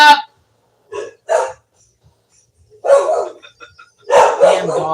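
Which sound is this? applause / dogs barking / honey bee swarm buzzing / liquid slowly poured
dogs barking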